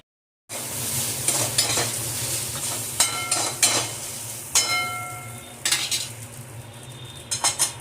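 Okra sautéing in a pan for varutha morkuzhambu, a steady low sizzle broken by a spoon repeatedly scraping and clinking against the metal pan, close and fairly loud with no talk.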